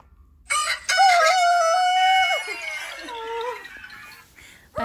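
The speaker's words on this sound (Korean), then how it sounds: "닭 울음소리가. 일어나실걸?" A rooster crowing alarm sound rings out loud and close, one long drawn-out cock-a-doodle-doo that trails off, alone after a brief quiet start.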